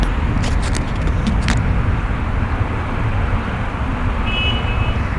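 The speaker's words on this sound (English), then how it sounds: "Look at the big trucks passing by and the buses over there" Heavy road traffic with big trucks and buses passing, a steady loud broadband rumble and roar that holds through without letup, with no talk over it.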